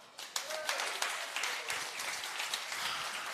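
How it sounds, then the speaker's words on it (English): Audience clapping at a live event, steady, dense applause of a good-sized crowd with rhythmic peaks, fairly loud and continuous for about three seconds. "Guys, that deserves a clap."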